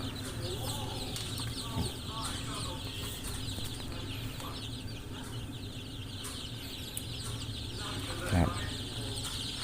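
Chickens cluck softly and intermittently amid a constant farmyard background hum, with a few louder squawks standing out, on a farm during Newcastle disease and infectious bronchitis vaccination.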